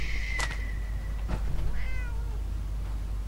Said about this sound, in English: Cat, stop it.